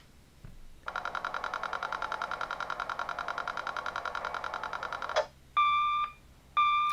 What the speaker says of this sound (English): we've even got Alfred announcing that the Bat phone is ringing, which is really cool